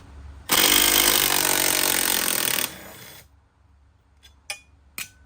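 A power tool removing bolts from the interior of a Ford F-150 Harley edition, a loud close two-second burst of rattling impact, then metallic clicks and taps.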